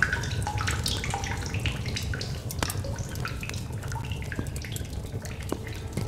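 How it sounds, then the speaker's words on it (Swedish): Water drips in an indoor space in The Solus Project video game, a scattered run of sharp drops falling at irregular intervals over a low, steady background rumble. "Vatten."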